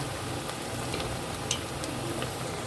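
Prawn pakoras sizzling in hot oil, a steady close crackle and spatter with occasional sharper pops, no voices.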